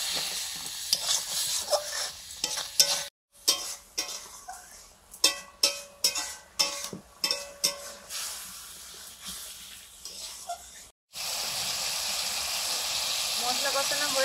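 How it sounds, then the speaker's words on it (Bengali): Spice paste with red chili powder, turmeric and water is fried and stirred in a pan for ghugni. A hissing sizzle runs under repeated rhythmic spatula scrapes, with brief silent breaks, then a steady sizzle alone. "হলুদ গুঁড়ো, জল দিয়ে মশলাটা কষিয়ে নেব।"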